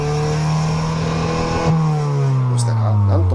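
A car fitted with an inner silencer in its exhaust revs close by. The engine tone rises in a smooth, deep, steady drone, then drops and climbs again, and faint voices can be heard beneath it.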